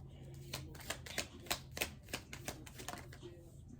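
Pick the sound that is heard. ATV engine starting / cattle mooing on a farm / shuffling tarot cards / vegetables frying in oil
shuffling tarot cards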